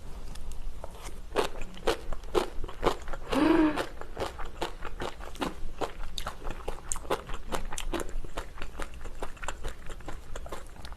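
Close, crisp crunching and chewing of spicy kimchi in a mukbang, with wet bites repeating in a steady, uneven rhythm. No one speaks.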